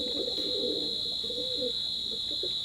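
Teddy pigeons coo in low, soft repeated phrases close by, with a steady high-pitched electrical whine running continuously in the background.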